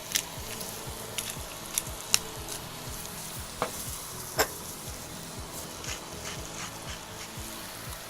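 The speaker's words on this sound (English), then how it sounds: "Just gonna fry a couple of pieces and move them to the side." Pieces of reindeer meat fry in a hot pan for a burger, giving a steady crackling sizzle with scattered sharp pops and spits throughout; no one speaks.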